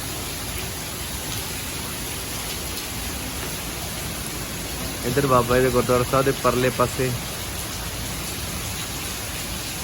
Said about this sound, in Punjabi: ਕਿਆ ਮੀਂਹ ਹੈ